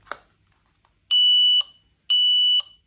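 Keyless-entry car alarm on a VRZ remote system triggered by a forced-open door, sounding two loud, sustained electronic tones about half a second each in a steady rhythm after a short click.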